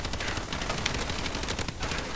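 Rapid, fairly dense automatic gunfire from an unfamiliar weapon in Call of Duty Advanced Warfare, a steady rattle of closely spaced shots running throughout at moderate level with no talking.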